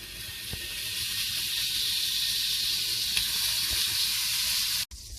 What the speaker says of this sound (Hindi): तो अब हम इसमें सबसे पहले मक्खन ऐड करेंगे।